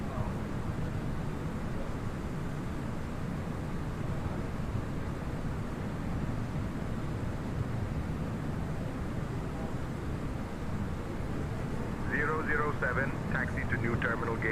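A steady, broadband engine whine and rumble from an Airbus A321neo taxiing on the ground in a flight simulator fills the scene without pause. Near the end a voice speaks over the engine noise.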